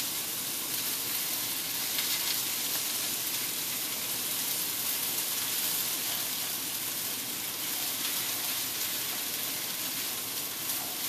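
Spinach wilting in a hot skillet gives off a steady, loud, continuous sizzle and hiss that holds unbroken from start to finish, with no voices.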